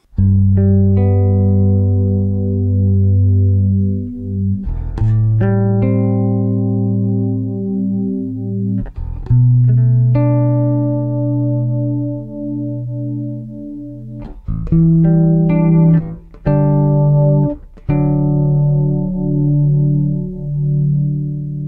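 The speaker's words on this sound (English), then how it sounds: "let's hear the other detune sound called Shallow" Deep bass notes bent by a Whammy pitch-shifting detune effect on its Shallow setting, played in sustained phrases with short pauses and sharp attacks, loud and alone.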